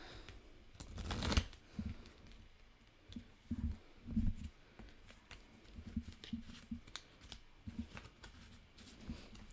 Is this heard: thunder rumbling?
no